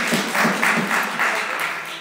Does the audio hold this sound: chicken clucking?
no